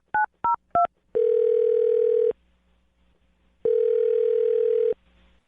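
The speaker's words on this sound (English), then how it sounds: "I'm going to dial her phone number right now" Three short two-tone keypad beeps of a telephone being dialed, followed by two long steady ringback tones separated by a pause, clear and close with no talking.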